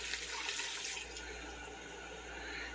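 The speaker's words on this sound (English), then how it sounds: "just rinse this out with a little bit of additional water" Water is poured into a cup to rinse out the last of some reconstituted chicken broth, a close splashing pour that is strongest at first and then settles into a steady trickle, with no talking.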